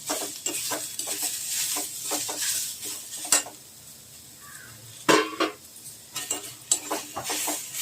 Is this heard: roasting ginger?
yes